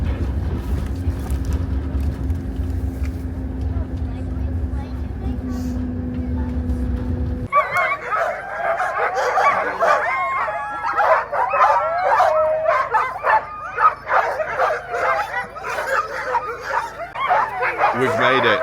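Excited huskies at a sledding kennel in Lapland bark, yip and howl in a dense chorus after a stretch of low vehicle drone, many dogs overlapping loudly and continuously.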